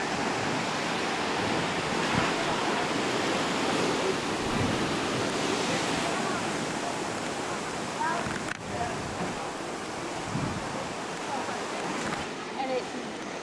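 Steady roar of ocean surf crashing along the rocky Maine coast, broad and continuous with gentle swells in intensity, wind noise mixed in and no clear talk.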